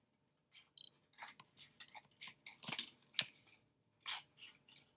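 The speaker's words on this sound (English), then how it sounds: "I just need to cut my last tube" Scissors snip through a bent paper tube in a quiet series of short, crisp cuts and crinkles, close by and faint.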